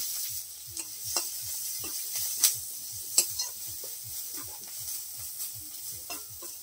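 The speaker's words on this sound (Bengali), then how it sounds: "কোচানো পেঁয়াজটাকে একটু লাল করে ভেজে নিবে।" Sliced onions sizzle and fry in hot oil with five-spice seeds in a wok, a steady crackling hiss broken by repeated scraping stirs and a few sharp clinks, close and without voices.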